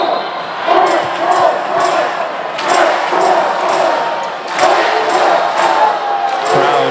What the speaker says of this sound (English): Crowd trying to urge the home team on.